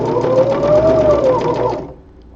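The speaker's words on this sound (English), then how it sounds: "Just gonna go ahead and strengthen and reinforce that seam really quick." Sewing machine running a continuous burst of stitching along a spandex glove seam for about two seconds, loud and close with a steady whirring hum, then stopping abruptly.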